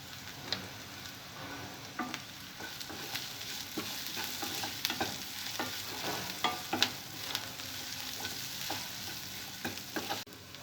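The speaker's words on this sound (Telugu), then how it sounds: "ఉల్లిపాయ ముక్కలు కొద్దిగా ఫ్రై అయిన తర్వాత ఇందులో పసుపు వేసుకోవాలి." Onions and turmeric frying in a pan for potato fry: a steady hiss of sizzling oil, broken by scattered sharp clicks and scrapes from stirring, close and alone, with no voices.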